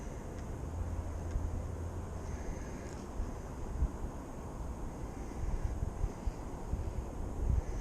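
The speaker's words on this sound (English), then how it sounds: "It's a little breezy." Breeze buffets a microphone outdoors at a building site, a steady low rumble with uneven gusts that swell near the end, with no speech over it.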